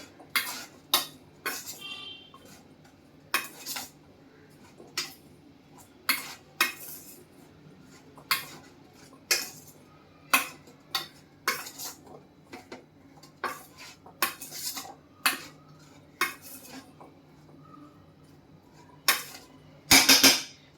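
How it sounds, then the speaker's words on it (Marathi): A spoon mixes chickpeas in a marinade, giving a series of sharp metallic clinks and short scrapes against the bowl at irregular intervals, close up and separated by quiet pauses. "हे आपण याला सोडून व्यवस्थित मॅरिनेट जसं करतो तसं मॅरिनेट करून घ्यायचं आहे"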